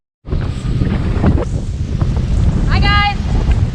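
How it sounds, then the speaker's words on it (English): Heavy wind buffets the microphone in a loud, steady low rumble, with a brief high warbling tone rising out of it partway through. "A little windy out today if you can't tell."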